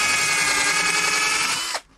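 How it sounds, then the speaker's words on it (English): A power drill bores holes in plywood during home construction of a plywood boat, whining loud and steady at close range for nearly two seconds before abruptly winding down and stopping. "So once again, drill down."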